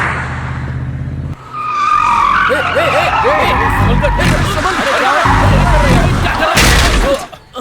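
Car skidding while driven recklessly, loud engine roar giving way to prolonged screeching tire squeals with wavering pitch, close and intense, with excited voices shouting over it.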